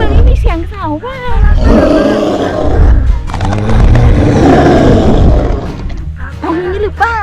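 A toy dinosaur lets out a loud, harsh roar that swells and holds for several seconds at a seaside beach, with a voice heard before and after it.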